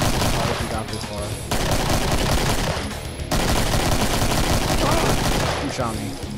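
Enemy gunfire in the video game Doom 2, rapid bursts of shots and in-game weapon blasts filling the whole stretch, loud and dense, with brief breaks between volleys.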